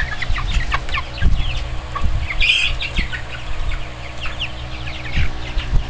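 Cornish White Rock meat chickens, including a rooster, cluck softly nearby over a low background hum, with occasional short calls and faint rustling.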